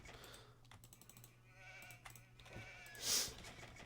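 Sheep in a strategy video game bleat faintly at low volume over quiet game ambience, with light clicking taps scattered throughout and one brighter burst near the end.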